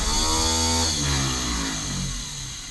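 A starboard 454 boat engine cranking over after ten years of sitting, a loud steady mechanical churn with a rising-and-falling tone, close and continuous throughout with no talk.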